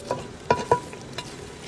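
Garlic frying and being stirred in a pan while making sweet and sour soup, with a few soft scraping stirs and a faint sizzle close by, heard without voices.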